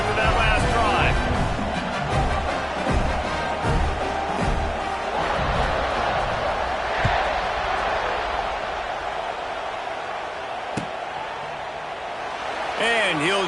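A football stadium crowd roars and cheers after a scoring drive, a dense, continuous wall of noise from a large audience heard from within the stands, with a commentator's voice running over the din.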